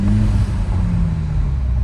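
A Toyota GR Supra 2.0 turbo fitted with an aFe Takeda intake runs with a loud, steady low engine drone and a faint whir above it, unchanging throughout.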